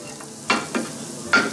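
Ginger and garlic fry in a hot pan, scorching slightly. Three or four quick scraping stir strokes cut through a low, steady sizzle.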